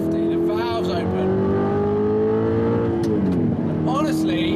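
An Audi R8's naturally aspirated engine climbs steadily under partial throttle, its tone rising in pitch and then dropping away near the end. The engine sound is loud and close, with a voice briefly heard over it.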